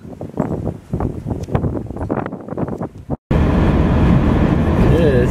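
Wind buffets a microphone during a snowy ride home on Halloween night, a loud steady rumble and roar filling the second half after a brief dropout, with indistinct talk and movement noise earlier.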